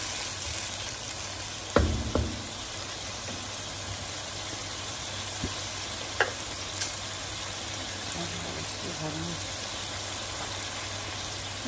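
Boiled onion paste stir-fried in a pan for a Bengali cauliflower roast: a steady soft sizzle throughout, with a few clinks of a spoon or spatula early on and a faint background hum.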